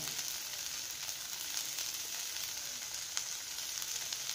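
Cluster beans and moong dal fry in a pan with salt and chili added, giving a dense, even sizzle that carries on throughout with one faint scrape. No one talks.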